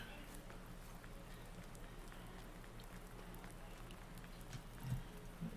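Steady rain in Farming Simulator 19 patters continuously as a dense, even hiss, with a couple of faint low thumps near the end.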